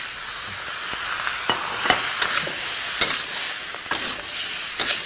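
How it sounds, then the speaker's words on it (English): Tomatoes added to spiced zucchini frying in a pan, a steady sizzle with scattered stirring scrapes and clatters of a utensil, close and without talk. "Now finally, add our tomatoes."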